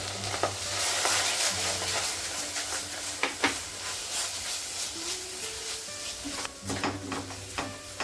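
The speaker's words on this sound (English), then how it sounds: "Mix it for some time and your coconut laddu dough is ready." Toasted coconut and condensed milk being stirred in a kadai, with a continuous soft sizzle and hiss under repeated scraping strokes of a spoon against the metal, close by with no talking.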